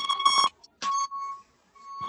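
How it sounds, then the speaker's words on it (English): Electronic beeping sounds in repeated bursts with short gaps, a bright tonal alarm that pulses on and off, moderately loud and near. "Is that beeping on my side or your side?"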